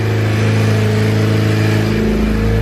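A 2018 Honda Accord fitted with a Civic Si transmission idles steadily up close, giving a loud, even engine hum with a low drone that swells slightly near the end, and no one speaks.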